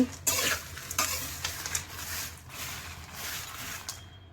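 Roasted garam masala spices stirred in a hot pan after the stove is switched off, giving a soft fading sizzle with repeated scraping and rustling strokes of a spoon against the pan, close and fairly quiet.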